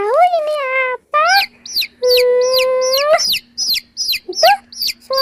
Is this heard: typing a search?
no